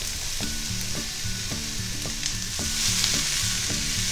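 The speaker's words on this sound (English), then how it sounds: "So I will saute for a few seconds on a very high heat" Spring onion whites being sautéed on very high heat for shrimp chilli, a loud, bright, continuous sizzle with regular rhythmic tossing or stirring knocks about every half second, close and with no talking.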